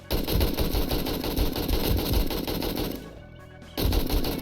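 Rapid automatic gunfire in 7 Days to Die, a fast loud chatter of shots that cuts out briefly near the end and then resumes, close and dense.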